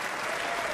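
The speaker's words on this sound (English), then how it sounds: "And a huge cheer for Murphy." A snooker crowd at the Masters bursts into applause and cheering for Shaun Murphy, a dense, steady clatter of clapping heard briefly and alone.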